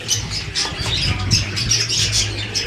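Cockatiels squawk and chirp continuously in a breeding aviary, a busy chorus of overlapping shrill calls close by.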